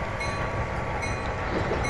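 A freight train rolls along the rails on the Tidewater Railroad in the Trainz 2019 simulator, a steady low rumble with faint clickety-clack and a soft hiss, even and unbroken throughout.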